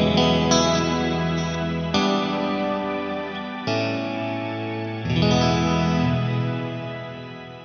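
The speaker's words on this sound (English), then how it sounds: "I'm going to hit an Eventide H9 delay in the shimmer sound now." An electric guitar played through an Eventide H9 delay on its shimmer setting with a compressor rings out in sustained chords, each strum blooming into a bright, chorused wash with echoing repeats that swell and decay across several phrases.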